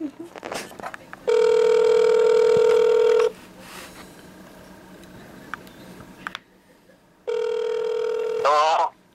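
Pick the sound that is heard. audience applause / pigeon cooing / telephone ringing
telephone ringing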